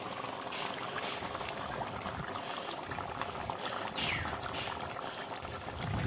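Fish and potatoes simmering in a pot, a steady close bubbling and soft liquid churn that runs on without a break.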